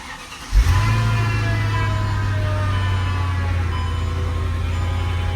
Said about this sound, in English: I don't really like that sound, that humming.